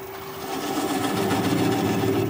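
Wood lathe turning a small piece at about 400 RPM, a steady close motor hum with a constant whirring tone and no talk.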